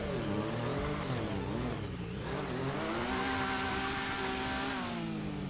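A motorcycle engine in GTA V Online revs steadily, its pitch climbing and dipping in waves before settling into a sustained high drone, loud and continuous throughout.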